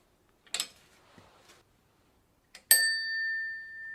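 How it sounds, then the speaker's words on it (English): A single-ping bicycle bell on a bicycle with a Shimano CB 110 coaster brake, struck once after a couple of soft handling clicks, giving one bright ring that lingers and slowly fades. "A one ping only bell. They suck."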